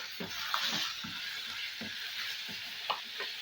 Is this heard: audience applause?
no